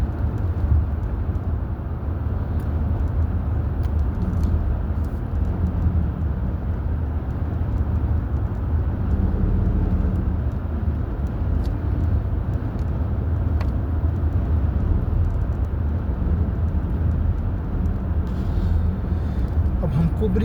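Steady low road rumble and engine hum inside a car driving home from the airport, continuous for the whole stretch with people talking over it.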